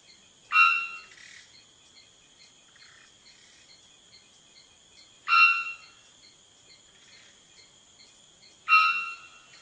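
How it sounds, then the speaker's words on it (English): Three loud, sharp bonk calls of a three-wattled bellbird ring out several seconds apart, each a brief metallic blast over a constant high insect-like buzzing drone. "the 3-wattled bellbird makes itself heard by swelling and contracting the muscles on its neck and back, heaving its chest, opening its beak incredibly wide, and releasing a bonk"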